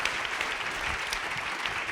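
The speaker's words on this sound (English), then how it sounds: "let's give them a big round of applause" Housing summit attendees give panellists a short round of applause, a brisk, dense clapping from a room full of people, steady and moderately loud with no voices over it.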